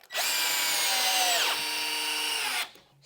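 A Ryobi cordless screwdriver runs at its single speed, giving a loud, steady high-pitched motor whine for about two and a half seconds that dips in pitch midway before cutting off abruptly.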